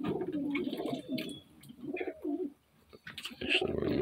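Pigeons coo in soft, rolling bursts, several phrases with short pauses between, close and moderately faint, with a few higher chirps mixed in.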